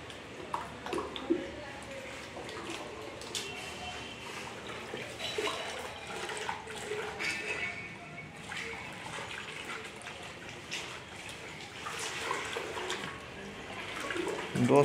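Water poured by hand into a bucket of exterior wall primer for mixing, a continuous splashing trickle with some stirring noise, steady and close throughout.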